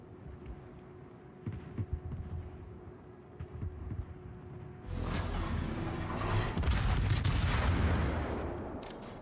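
Naval armour-piercing shell gunfire in a warship video game replay: faint mechanical rumble, then a loud sustained roar of shots and impacts building over the last few seconds.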